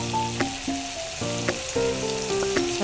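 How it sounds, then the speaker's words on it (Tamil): Bottle gourd pieces dropped into a pan of onion and garlic sizzle and crackle, with several sharp clattering stirs and tosses breaking up a steady close frying hiss. "இப்போ சுரக்காய் சேர்த்துக்கலாம்."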